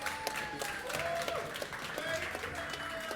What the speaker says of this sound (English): Can we get a round of applause for our amazing commentators?